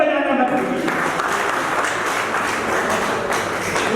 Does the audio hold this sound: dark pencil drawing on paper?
no